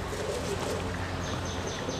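Pigeons cooing softly over a steady background hum, low murmuring calls repeating with a few faint chirps.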